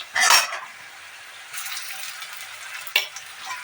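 Ginger garlic paste stirred and fried with browned onions in a pan: a few short bursts of stirring and sizzling, with quiet gaps between them and no voices.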